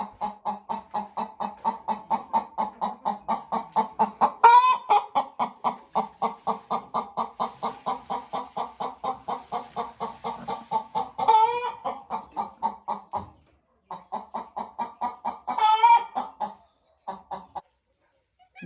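Hens in a chicken coop clucking and squawking close by, a steady run of rhythmic clucks broken by a few louder cackling calls and short pauses, with no talk.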